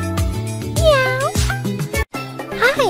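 Several bright, cartoonish cat meows in quick succession, close and loud, with sliding pitch, over a busy musical background in a kids' jungle animal hair salon game.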